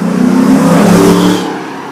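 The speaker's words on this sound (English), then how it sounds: "You can tell how big his engine is." A big-engined car roars loudly as it revs and passes close by, then the sound fades as it moves away.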